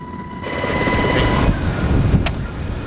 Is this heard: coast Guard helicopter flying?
yes